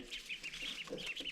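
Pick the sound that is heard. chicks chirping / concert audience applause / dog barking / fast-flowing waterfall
chicks chirping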